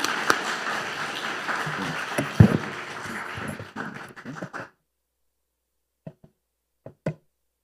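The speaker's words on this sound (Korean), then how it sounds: "우리 나오실 때 반갑고 환영하는 마음으로 우리 박수 한번 하고 맞이하겠습니다" A church congregation claps to welcome the pastor to the pulpit, a full burst of applause that fades out after a few seconds, leaving near silence broken by a few scattered, isolated claps.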